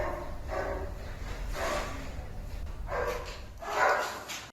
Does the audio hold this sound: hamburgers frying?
no